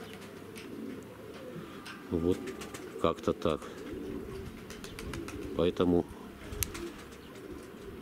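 Pigeons coo in a dovecote in several short, throaty bursts spread across the moment, near and moderate in volume. Someone talks at the same time.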